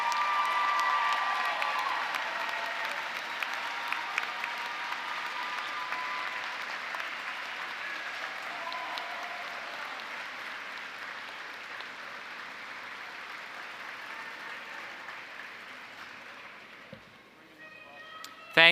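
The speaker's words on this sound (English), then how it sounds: "Will all the degree recipients please rise and give a round of applause in appreciation to all the faculty, the staff, and the family" Newly graduated degree recipients at a 2024 graduate commencement ceremony give a sustained round of applause, a dense, steady wash of clapping with a few whoops that holds for most of the stretch before thinning out near the end.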